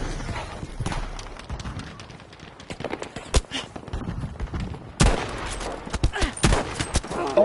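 Battlefield 5 gunfire on PS5 cracks out in rapid volleys of sharp, close shots and heavier bangs, loud and dense with short gaps between bursts.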